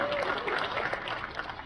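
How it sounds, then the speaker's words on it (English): Convention panel audience cheering and applauding steadily throughout, a dense wash of clapping and crowd noise at fairly close range. "A loud cheer for that one."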